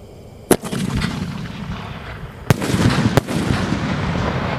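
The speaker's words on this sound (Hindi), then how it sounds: "ये चल रहा हमारा सनशाइन का स्काई शूट, देखते हैं ये कैसा चलता है" A Sunshine sky shot Diwali firework goes off outdoors in three sharp, loud bangs, each followed by a crackling, hissing rumble of burning effects, with no talk.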